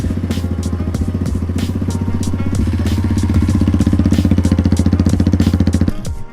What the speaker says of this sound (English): I'm going to crank it up, let it idle for a little while